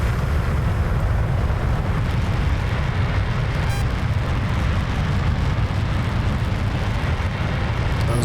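F-15E jet lighting its afterburners for takeoff in the DCS World flight simulator, brakes released: a loud, dense, continuous roar that stays steady throughout, with no voices.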